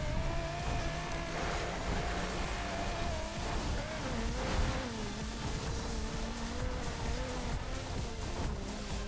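Nissan 370Z driving off-road in The Crew, a continuous engine drone that rises and falls with revs over steady road and tire noise, moderately loud with no pauses.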